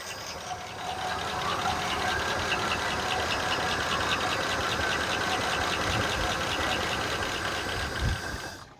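A carbureted project car engine idles steadily, its mid-pitched rumble carrying a fast, even ticking clatter from sticking lifters throughout.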